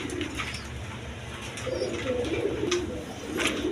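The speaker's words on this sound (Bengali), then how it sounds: "এখানে এক পেয়ার কবুতর আছে" A pair of pigeons, male and female, coos steadily nearby in low, throaty murmurs over a constant background hum.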